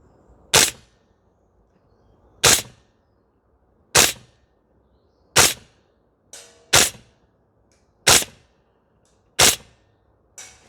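A CYMA gas blowback airsoft rifle fires eight sharp single shots at range targets, spaced roughly a second and a half apart, each a crisp crack with a short tail in otherwise quiet surroundings.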